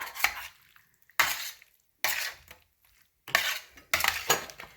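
Spoon stirring caramelized juices into a beef bone sauce in a pan, five distinct scraping, clinking bursts separated by brief pauses, close and fairly loud with no talk.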